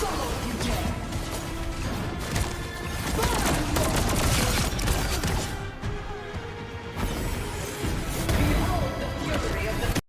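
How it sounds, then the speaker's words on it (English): Marvel Rivals gameplay explosions, a dense chaotic barrage of blasts, crashes and gunfire-like bursts filling the stretch, with talk running throughout. "That wasn't the ult, that was just explosions"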